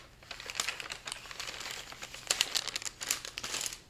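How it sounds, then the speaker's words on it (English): Plastic project bag for a cross-stitch camp piece crinkles close by in repeated bursts of handling, with sharper rustles near the middle and end and no talking. "Sorry about the crinkling,"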